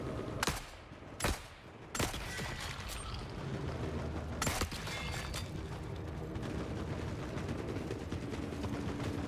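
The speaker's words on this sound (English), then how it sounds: "I hear snipers." Sniper fire in the shooter game The Forever Winter: several sharp cracks early on, one more a few seconds later, heard over a constant low mechanical rumble and clatter of battle ambience, fairly distant and quiet.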